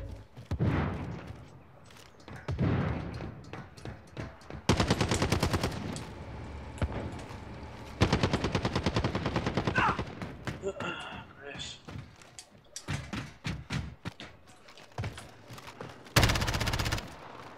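Gunfire in the shooter game Call of Duty: loud bursts of rapid automatic fire and single shots, with quieter gaps between them and a voice talking over parts of it.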